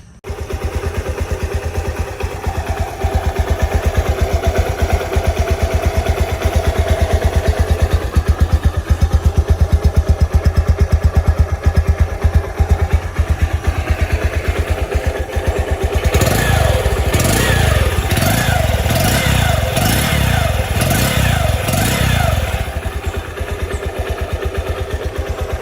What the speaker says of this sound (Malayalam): ഇനി വണ്ടി ഞാൻ സ്റ്റാർട്ട് ചെയ്ത് ജസ്റ്റ് അതിൻ്റെ ആ സൗണ്ട് നിങ്ങളെ ഒന്ന് കേൾപ്പിച്ചു തരാം